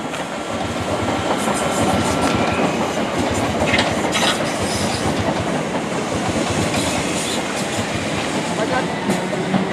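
British Rail Class 377 and Class 455 electric trains at Clapham Junction, one departing and one arriving, a loud steady rumble with rhythmic clickety-clack of wheels over rail joints and occasional squeal, close by throughout.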